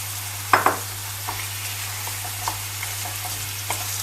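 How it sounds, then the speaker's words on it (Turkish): Minced meat and onions fry together in a pan for Bosnian börek, giving a steady close sizzle. A few sharp stirring scrapes punctuate it, a constant low hum runs underneath, and no one speaks. "soğanla beraber her ikisini kıvırıp pişireceğim."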